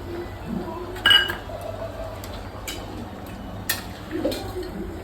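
A lid set onto a cooking pot while river fish curry simmers in a home kitchen: a single sharp metallic clink, then a couple of fainter clanks and a soft scrape against quiet background.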